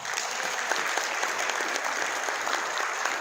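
Steady applause from an audience at an Indonesian health talk, dense clapping that holds evenly throughout without a break.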